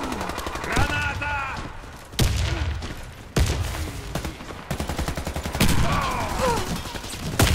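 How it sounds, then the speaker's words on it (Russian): Gunfire bursts and grenade blasts from the online shooter Warface, with several loud impacts and rapid rattling volleys; a voice talks over the action. "Поберегись! Граната!"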